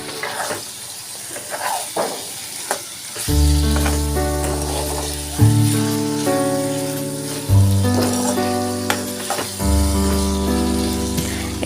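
Okra and tomato fry in a pan for restaurant-style bhindi masala, giving a continuous close crackling sizzle with occasional stirring scrapes, heard under steady background music.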